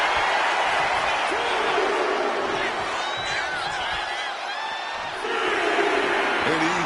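A wrestling arena crowd in WWE 2K26 keeps up a continuous roar with scattered shouts and whistles, dipping briefly before swelling again.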